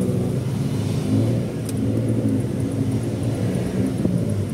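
A Honda Civic EG drives on a test run after a clutch master and slave cylinder replacement, its mid-pitched engine droning steadily and close with mild revving throughout.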